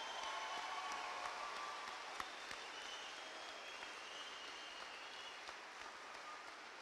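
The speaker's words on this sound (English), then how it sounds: "help me give them a round of applause for their service," Applause for veterans at a high school commencement ceremony in a gym, a soft, distant, steady patter of many hands clapping without talk.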